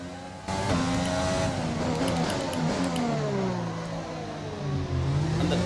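A Formula 1 car in the F1 2020 video game at the Azerbaijan Grand Prix accelerating out of the pit lane, its loud high-revving engine sweeping up through the gears in repeated rising whines, continuous and close.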